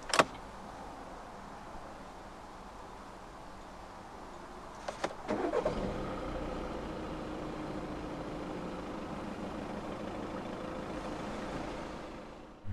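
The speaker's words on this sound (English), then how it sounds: "To start the A3 Cabriolet, put your foot on the clutch, insert the key into the slot" A 2015 Audi A3 Cabriolet 2.0 TDI diesel engine cranks and catches after a few seconds of quiet, then settles into a steady low idle.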